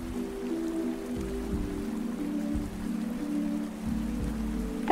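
Waterfall in the video game Omori, heard as a steady hiss of falling and splashing water with a low tonal hum underneath, continuous and fairly loud throughout with no talking.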